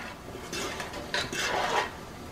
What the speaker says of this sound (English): Stir my rice up.